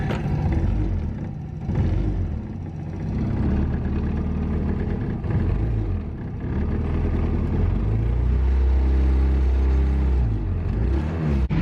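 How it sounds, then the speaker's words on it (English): A vintage Peel P50 microcar's small engine is cranked and fired up with the choke pulled, a rough turning-over rumble that catches into a steady low, buzzing idle, close by and with no talking. "I've got the fuel line on and I'm just going to turn the engine over."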